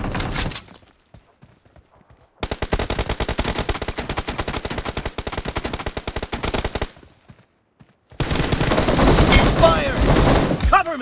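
Rapid automatic rifle fire from M416 and M762 guns in a team deathmatch shooter game, two long loud bursts of fast, evenly spaced shots separated by near silence.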